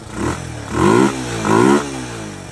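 A 1981 Yamaha SR185 motorcycle with an aftermarket carburetor and Ignitech TCI revs up loudly twice close by, each surge rising sharply and then dropping back to a steady idle.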